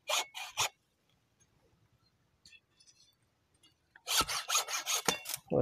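Rasping hand saw strokes pruning branches of a sweet tamarind tree, a few quick strokes, a quiet pause, then a faster series of rhythmic sawing strokes, close by.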